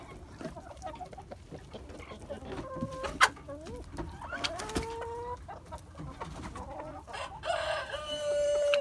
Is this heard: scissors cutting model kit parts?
no